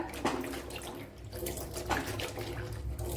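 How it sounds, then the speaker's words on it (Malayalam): Water running from a tap while cut pumpkin pieces are rinsed in a sink, a close steady splashing with shifting gurgles and a voice briefly audible underneath. "ഇതിനെ ഒന്ന് കഴുകി എടുക്കാം"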